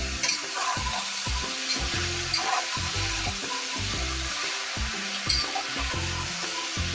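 Vegetables frying in a pan with salt and turmeric powder stirred through them, giving a steady close sizzle with soft scraping stir strokes over continuous background music and no speech.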